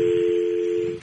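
A telephone keypad sounds a single sustained dialing tone, clear and close, holding steadily for about a second before cutting off, with no talking.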